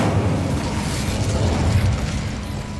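Incendio fire spell cast in Hogwarts Legacy, a dense roaring whoosh of flame with a low rumbling burst, loud and sustained across the whole moment with no talk.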